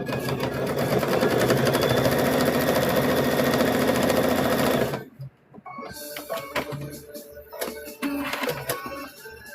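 A sewing machine stitches a quilt in a fast, steady whirring run for about five seconds, then falls quiet before a few scattered clicks and handling noises follow.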